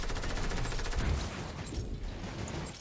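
Gunfire in the Fortnite video game, a quick series of rapid shots stacked close together, loud and near, no voices.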